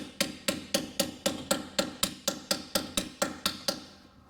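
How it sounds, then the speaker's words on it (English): A socket is tapped into place on a rusty Dodge Charger during a fluid service: about fifteen evenly spaced sharp metallic hammer strikes, close and fairly loud, with no talking. "So we're gonna tap our socket in."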